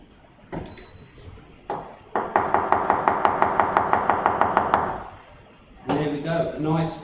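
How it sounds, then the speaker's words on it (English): A knife chops radishes on a board in a quick, even run of about a dozen crisp knocks, close and clear, with talking before and after. "And maybe a few chopped radishes."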